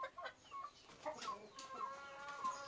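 Hens clucking softly in a rural backyard chicken coop, scattered short calls overlapping at a fairly quiet, close-to-moderate distance, with no talking.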